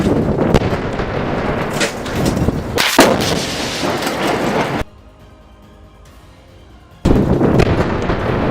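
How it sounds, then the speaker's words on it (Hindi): In Gaza street fighting, a rocket launcher fires at a building held by soldiers. Heavy, loud booming blasts and rumbling fire cut off to near silence for about two seconds before the roar resumes. "इसके बाद अल कासिम के लड़ाके दूर एक बिल्डिंग में आईडीएफ के जवानों पर रॉकेट से हमला कर देते हैं"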